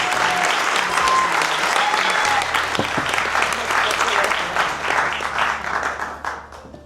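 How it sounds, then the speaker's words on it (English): A crowd at a women-of-the-year award ceremony applauds an honoree, steady and dense for several seconds before tapering off at the close, with a few voices and cheers under the clapping. "So please, a big, big round of applause for her."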